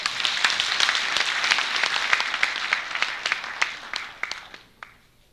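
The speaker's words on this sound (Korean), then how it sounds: "다시 한번 그 고마운 박수 부탁해 올립니다" Audience applause at a university president's farewell and inauguration ceremony in Korea: a dense, steady round of many hands clapping that holds strongly, then thins out and fades near the end.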